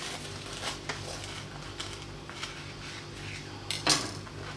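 Crisp crunching of a toasted garlic chicken and cheese sandwich buttered for an even crust, a few close crackly bites and breaks spread over a low background hum, one sharper crunch near the end.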